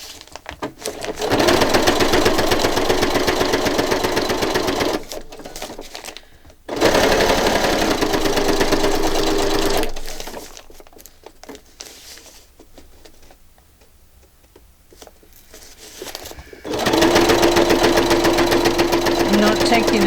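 A sewing machine stitches a soft journal cover together with black thread, running in loud, rapid mechanical bursts separated by pauses, with quieter handling noises in between.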